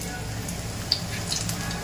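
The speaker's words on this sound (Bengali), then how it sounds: "একটু বেসনটা ঝেড়ে নিয়ে একদম ডাইরেক্ট গরম তেলে, এই হচ্ছে বক ফুলের বড়া" Bok flower fritters in gram flour batter sizzle steadily in hot oil, a close continuous frying hiss with a few small pops and crackles, quiet and even throughout without speech.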